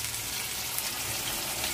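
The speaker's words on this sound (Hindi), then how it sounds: "एक से दो मिनट के लिए इसको हम फ्राई करेंगे एक साइड" Batter-free masala fish fries in a pan over medium heat, giving off a dense, continuous close sizzle with no breaks.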